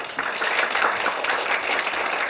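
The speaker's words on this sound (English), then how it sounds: "Let's give a round of applause for Dr." Audience applause for a speaker at an AI and applied science talk, a steady dense clapping that fills the whole moment at even loudness with no voices over it.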